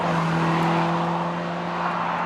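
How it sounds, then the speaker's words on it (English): A Lotus Emira's four-cylinder engine and exhaust give a steady, gruff grumble with a constant droning tone, sustained and fairly loud, with no voices. "It's not a happy engine noise."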